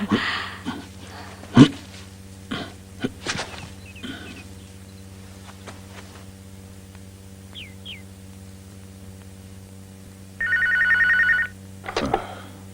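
A telephone rings in a North Korean film scene with a short electronic bell burst late in the clip, heard over a steady mains hum with scattered small knocks and movement.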